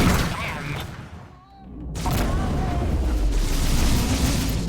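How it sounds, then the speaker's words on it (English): A missile is shot down and explodes in the space combat game Rebel Galaxy Outlaw, a loud rumbling blast that fades, then a second heavy roaring burst of explosion and engine noise that keeps going, with a voice talking over it. "I shot the missile out of the sky"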